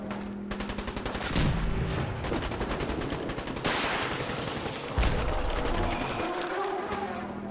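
Rapid bursts of gunfire from Fallout 4 combat, dense repeated shots and crashes running almost continuously and loudly, with a couple of heavier impacts partway through.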